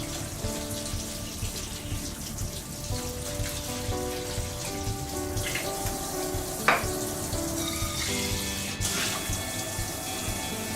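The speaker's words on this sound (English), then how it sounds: "现在要清洁土豆。" Tap water runs steadily into a sink while potatoes are washed, a continuous close splashing hiss with small knocks and clatter of handling, no talking.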